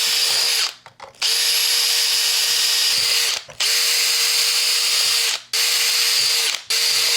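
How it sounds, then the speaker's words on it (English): A power drill whines loudly in several long bursts, each cut off by brief pauses, close up with a steady high-pitched motor tone, drilling holes to mount a bash bar on a Traxxas X-Maxx RC truck. "Go ahead and drill your hole."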